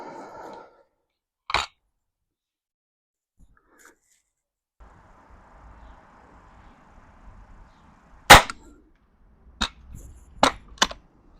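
Rifle shots fired at a target in a budget rifle competition: sharp, isolated cracks, one early, then a loud shot followed by three more spaced a second or so apart, with quiet handling noise between.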